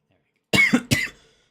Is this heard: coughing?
yes